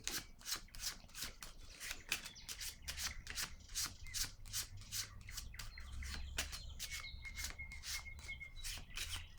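Playing cards being shuffled for a card reading, a quick run of crisp riffling flicks and soft slaps in steady succession, close and fairly quiet with no talking.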